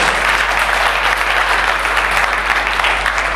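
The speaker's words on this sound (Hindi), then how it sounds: "सब तालियां बजा के प्रसादी लाल जी का स्वागत करें" Dense, steady applause from an assembled audience at a Buddha Purnima gathering, welcoming a guest named Prasadi Lal; continuous and fairly loud clapping throughout, with no speech over it.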